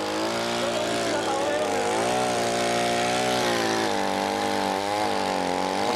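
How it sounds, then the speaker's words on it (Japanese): Chainsaw cutting horizontally into a standing tree during felling, its engine roaring loud and steady with slight pitch wobbles as the chain bites. "水平にチェーンが入っていきました。"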